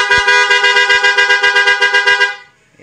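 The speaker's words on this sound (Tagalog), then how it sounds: "Tapos ito naman po yung loud horn po mga idol." Loud aftermarket horn fitted to a Yamaha NMAX v2 scooter gives a sustained, pulsing multi-tone blare for over two seconds, steady and close, then cuts off abruptly into near silence.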